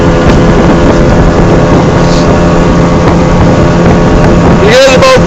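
Motorboat engine roar from a 2011 Hurricane 188 SS deckboat driven by a 150 HP Mercury Optimax outboard under hard acceleration, a loud steady drone with wind and water rush throughout and a brief high whine near the end.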